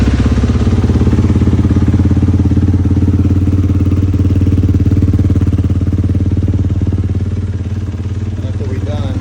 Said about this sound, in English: Needs to run the engine, get it submerged into the filter, and we'll see after that. That's the part I like to start the bike,